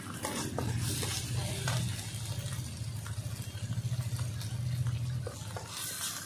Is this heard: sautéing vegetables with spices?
yes